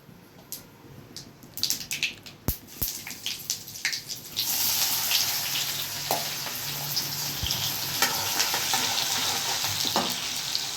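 Chopped onion dropped into hot oil for poha, after a few sharp clinks and stirs, bursts into a loud steady sizzle that fills the rest of the clip with close crackling and no talk.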